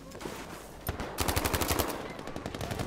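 Battlefield V submachine gun firing close by, an irregular burst of rapid shots that turns into a sustained stream of fast rounds.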